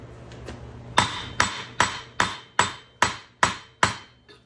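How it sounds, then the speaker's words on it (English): A rhythmic series of sharp metallic hammer strikes on a ball joint in a control arm, about nine blows in quick, steady succession, ringing close and loud with brief decays. "A couple more hammer blows."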